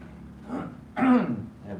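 A man clears his throat indoors in a Thai beach resort room, one short rough rasp followed by a louder, throaty second clearing, close and up front with no talk over it.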